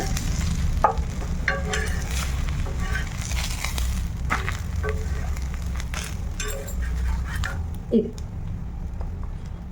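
Pesarattu, a moong dal dosa, frying on a pan with extra oil spooned around its edges, giving a continuous close sizzle with occasional scrapes and clicks, under low background hum.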